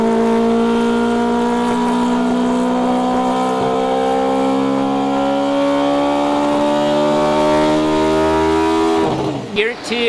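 A four-rotor engine runs on a dyno with a loud, steady, close droning note that holds for about nine seconds, then abruptly cuts and sputters near the end.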